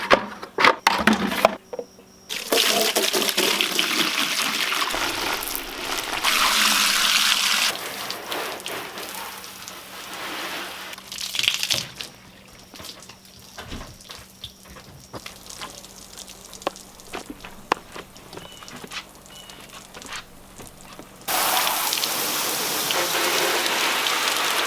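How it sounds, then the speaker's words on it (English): Water from a tap hose sprays and splashes steadily over a truck, loud at first, then softer with scattered drips, and a strong spray returns near the end. "I'm going to rinse off only half the truck with filtered water"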